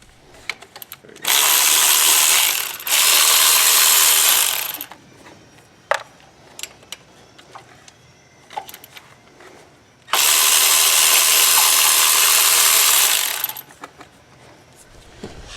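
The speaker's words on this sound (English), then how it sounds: "remove all these 10mm bolts holding the exhaust manifold to the cylinder" A power ratchet removes the 10mm exhaust manifold bolts on a Chevy Cruze, whirring loudly in two long runs of a few seconds each, with metallic clinks and handling noises in the quieter gaps.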